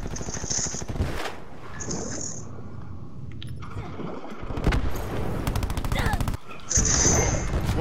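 Rapid bursts of gunfire ring out in a Call of Duty: Black Ops 4 match, with short grouped volleys separated by pauses, loud and close, while players talk over the shooting.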